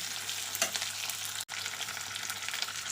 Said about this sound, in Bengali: একটু নেড়ে দেবো আর একই সঙ্গে একটু লবণও দিয়ে দেবো